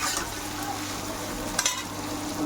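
Chow mein noodles sizzle steadily in a frying pan while being stirred, a dense close hiss with one brief scrape of the utensil and no voices.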